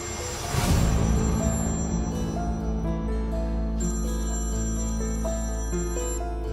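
A telephone rings steadily while a call waits to be answered, a loud electronic ringtone with bright repeating tones over a low background hum, heard alone with no talk.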